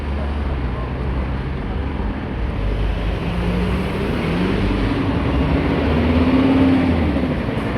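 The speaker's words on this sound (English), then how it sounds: "There's a bit of traffic here." Steady road traffic rumbles along a Stockholm street in the Södermalm district on a summer day, with a continuous low hum of passing vehicles and a tonal engine drone rising near the end.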